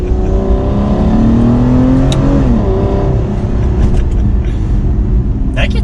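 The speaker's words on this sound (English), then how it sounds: "let's do another shift just to see what some acceleration is like from second gear." Aston Martin Rapide V12 engine accelerating hard from second gear, a loud steady engine note rising and shifting in pitch for several seconds from inside the car.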